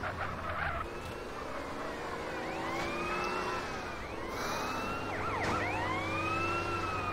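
An ambulance siren wails in the video game GTA San Andreas, with sweeping, overlapping tones rising and falling steadily over continuous engine and traffic noise, and no voices.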